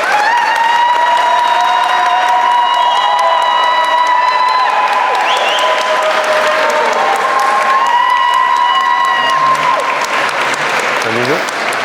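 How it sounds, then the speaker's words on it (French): Wedding guests applaud a newly married couple at Bastide des Barattes right after the vows, steady dense clapping mixed with cheering and loud celebratory voices, with music or tonal sounds running through the whole stretch. "Nous pouvons les applaudir."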